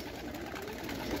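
A pigeon, a stray female, coos softly and low close by, a faint throaty murmur set against a steady background hum.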